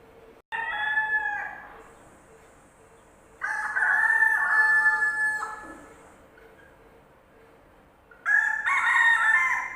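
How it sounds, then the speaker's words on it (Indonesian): A rooster crows three times, each cock-a-doodle-doo loud and close with strong harmonics, separated by quiet gaps over a faint steady hum. "Itu suara ayam. Chicken."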